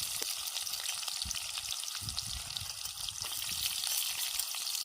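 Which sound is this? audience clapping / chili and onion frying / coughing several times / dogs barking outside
chili and onion frying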